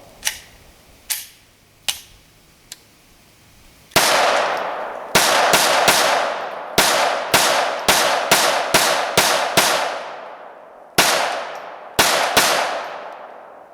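A handgun fires repeatedly, first a few lighter distant-sounding shots, then a loud close string of sharp reports with ringing tails, spaced unevenly with short pauses between groups.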